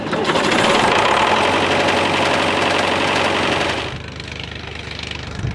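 A 1974 David Brown 885 tractor engine runs loud and close with a steady rattling diesel chug, then drops to a quieter idle for the last seconds.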